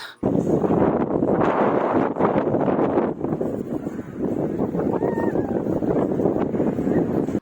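Strong wind buffets the microphone in loud, continuous rumbling gusts, surging and easing for several seconds.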